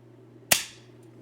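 A Umarex Single Action Army CO2 airsoft revolver fires a single sharp crack that decays quickly, close and loud, with a steady low hum underneath and no talking.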